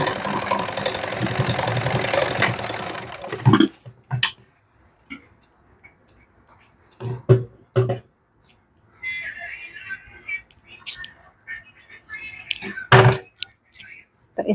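Sewing machine stitching a princess cut blouse runs in a steady whir for a few seconds, then stops, followed by scattered clicks, thunks and fabric handling, close up.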